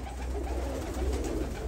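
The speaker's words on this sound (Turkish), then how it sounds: "Çok güzel bir kuş." A pigeon in an Arab-breed pigeon coop coos softly and continuously, close by, with a low murmuring rumble and no talking.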